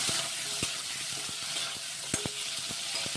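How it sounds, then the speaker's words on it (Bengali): Eggplant pieces frying in oil in a wok, a soft continuous sizzle with scattered light scrapes and clicks as the pieces are moved, close and fairly quiet with no voices. "বেগুনটা আমি এই তেলটাতে ভেজে নেব"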